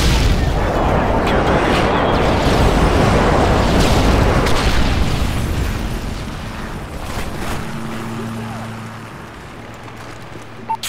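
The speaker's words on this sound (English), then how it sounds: "Delta airstrike on the way" Airstrike explosions from Call of Duty MW3 form a heavy, continuous rumbling roar of booming blasts. The roar stays loud for several seconds, then eases into lower droning with faint background voices.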